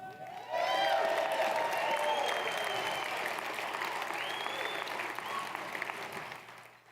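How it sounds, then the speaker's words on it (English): An audience breaks into sustained applause, loud and steady at first, then gradually thinning and fading out. "get ready to applaud"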